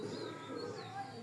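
Racing pigeons from a Bangladeshi club loft coo softly and continuously, a low murmuring drone held steady for about a second with faint chirps above it.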